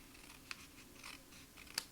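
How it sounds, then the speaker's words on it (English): Paper snips trim excess paper from a handmade birthday card, giving a few quiet scattered snips, the last two sharper and close together near the end. "take our paper snips and just trim off that excess."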